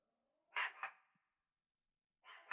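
Several dogs bark during a live podcast recording: a quick pair of sharp barks, a pause, then another burst, all fairly faint and distant, with no talk over them.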